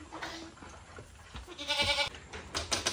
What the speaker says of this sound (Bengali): ছাগলগুলো রাত্রিবেলা নাইট শেল্টারে রেস্ট করছে।